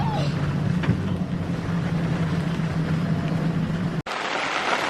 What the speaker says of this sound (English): You can hear the wind howling.